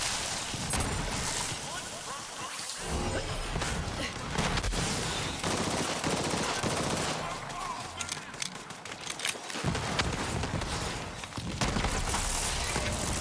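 Turret gunfire in Borderlands 3 during a Mayhem 11 prison-break fight, with dense rapid bursts of shots and chaotic combat noise running nearly continuously, layered under a player's voice.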